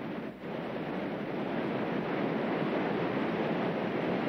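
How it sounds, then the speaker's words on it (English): Rapid at the end of Beachy Lake, a continuous broadband rush of whitewater, steady and fairly close, with no other sounds over it. "That is the rapid at the end of Beachy Lake."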